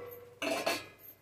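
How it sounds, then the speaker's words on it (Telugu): A metal lid set down on a pot of drumstick leaf curry on the stove, one quick clanking contact with a short ringing tail, close and fairly soft in a quiet kitchen. "కొంతసేపు మూత పెట్టేసుకుందాం."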